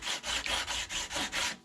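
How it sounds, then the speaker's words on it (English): Sandpaper wrapped around a dowel rubbed back and forth on a carbon fiber landing gear mold part, seven steady rasping strokes in an even rhythm, close and alone. "Now some of these parts here you're going to have to actually get a sandpaper and a dowel."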